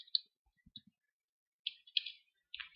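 Sparse clicks on a computer keyboard, a few quick taps, then a pause and another short burst of key presses, close and quiet in a silent room.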